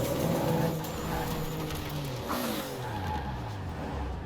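A Toyota Supra drifting in Forza Horizon 4, engine droning with revs sweeping up and down while tires squeal continuously, close and loud throughout.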